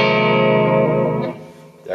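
A guitar played through a Nux Mighty 50X 50-watt digital amplifier lets a loud, bright, processed chord ring out and sustain for over a second before decaying into near silence.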